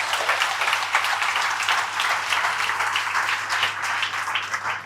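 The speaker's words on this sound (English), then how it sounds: "Big round of applause for the first sales deals" Applause from a crowd of staff at a monthly company meeting, celebrating first sales deals: steady, dense clapping that holds at a loud, even level for the whole stretch without any talk.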